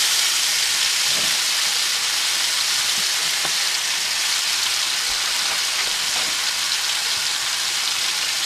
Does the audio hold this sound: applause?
no